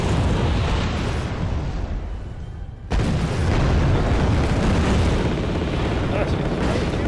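Dense rumbling explosions and artillery fire from the strategy video game Wargame: Red Dragon, a loud continuous barrage with a brief dip before a fresh heavy blast.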